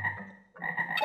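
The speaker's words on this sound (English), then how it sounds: "Oh look, frogs." Frogs croaking in Mega Man Legends 2, a couple of short buzzy croaks close up with a brief gap between them, clear and alone.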